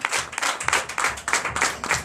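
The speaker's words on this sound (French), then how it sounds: "Nous donnons l'acclamation à Jésus." A church congregation at a Sunday service in Benin claps in acclamation to Jesus, loud, close handclaps falling in a quick, roughly rhythmic pattern.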